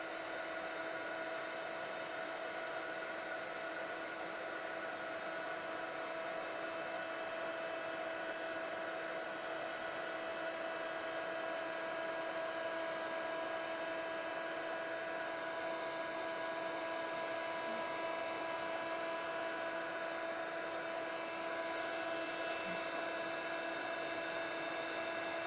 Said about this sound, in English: we're just going to move the heat gun over the image.